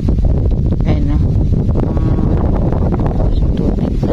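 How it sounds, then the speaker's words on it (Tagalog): Strong wind buffeting a microphone outdoors near clear water at an airgun fishing spot, a loud continuous low roar with gusty rustling and no break. "malakas ang hangin"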